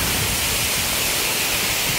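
Suok Waterfall in Goesan drops 20 m onto rock, giving a dense, steady roar of falling water that stays loud and unbroken, with no voices.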